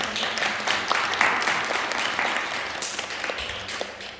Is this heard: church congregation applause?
yes